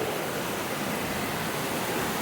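Heavy rain pours down in a steady, dense hiss that stays even and continuous at moderate loudness, with no voices.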